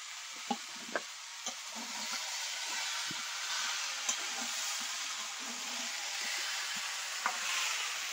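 Pre-fried shrimp sizzling in a pot with bottle gourd, turmeric and salt, a steady broadband hiss with occasional sharp pops and spoon clicks, close and alone without talk.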